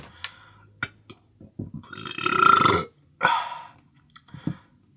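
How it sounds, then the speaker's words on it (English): A person burps loudly after eating Krispy Krunchy fried chicken. Several short burps come first, then two long, drawn-out belches close to the listener, with faint chewing and breathing between them. "Do I edit out all these burps?"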